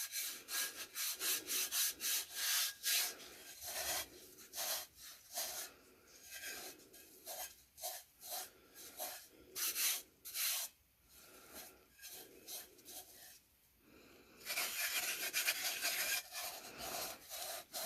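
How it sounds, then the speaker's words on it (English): A hand rubs glitter hard onto a tack-it coated tumbler, making quick repeated scratchy rubbing strokes close up in an uneven rhythm, with a denser burst of rubbing near the end and no talking. "You might have to rub pretty hard to get those thick spots."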